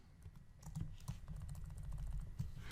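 Keys clatter on a computer keyboard while someone types code, a quick, uneven run of soft, close clicks.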